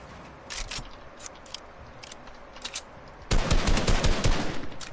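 Video game gunfire in a match with friends: scattered single shots early on, then a loud sustained burst of rapid automatic fire in the final seconds.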